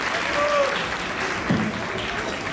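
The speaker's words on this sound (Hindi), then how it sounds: "जोरदार तालियों से स्वागत करिए सभी" Applause at a felicitation ceremony, a steady wash of clapping from an audience, moderately loud with a voice and a brief tonal sound mixed in.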